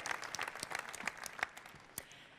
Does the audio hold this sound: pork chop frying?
no